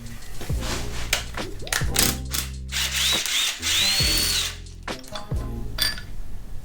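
A power tool loosens the crank hub bolt on an LT1 engine in loud, close, repeated whirring bursts separated by brief pauses.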